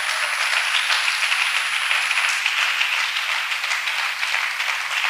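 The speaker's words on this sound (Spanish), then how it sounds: "Démosle un aplauso al Señor" A church congregation applauds with a sustained wash of many hands clapping, steady and fairly loud for several seconds, with no speech over it.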